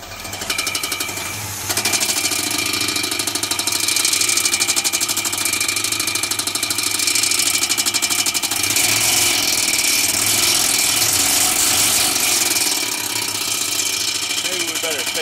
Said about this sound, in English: we're going to fire this baby up and back her out